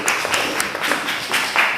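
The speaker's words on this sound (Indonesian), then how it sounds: "Tepuk tangan untuk kelompok 5 ya." A classroom audience applauds a group of students after a teaching session, a thin, fairly steady patter of hand claps with a few louder bursts, moderately close and not very loud.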